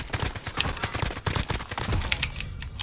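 Rapid gunfire in Modern Warfare battle royale, a steady stream of close, sharp shots in quick bursts that keep going without pause.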